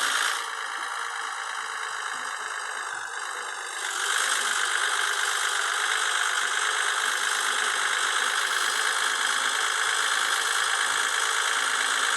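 Volvo F Series truck engine in the Cargo Transport Simulator mobile game, driving at night: a steady, loud rumbling drone with rattling overtones that rises slightly in level after a few seconds and then holds constant, with no talking.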